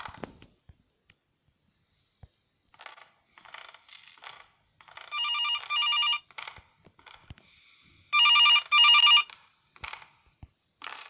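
A phone in a horror video game rings in two electronic double bursts, bright and buzzy, preceded and separated by scattered clicking and mechanical rattles.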